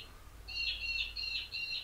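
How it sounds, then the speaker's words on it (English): Small bird chirping in short high bursts, several repeated calls fairly close, over a low steady background hum, no talk. "Sounds like a bird."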